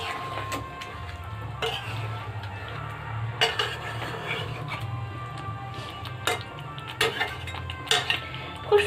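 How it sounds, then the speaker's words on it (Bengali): Chicken biryani stirred in a pot after a splash of hot water, with repeated metal spoon clinks and scrapes against the pot over a low simmering background, irregular and close. "এরপর অল্প পরিমাণে গরম জল দিয়ে দেব। আবারও খুব সুন্দরভাবে মিশিয়ে নেব।"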